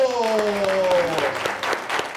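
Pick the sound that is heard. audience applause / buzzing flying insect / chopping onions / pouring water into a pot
audience applause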